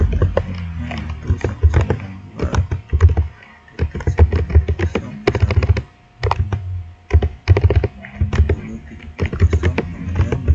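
Quick bursts of keystrokes on a computer keyboard while router configuration commands are entered, close and crisp, with uneven pauses between runs of typing.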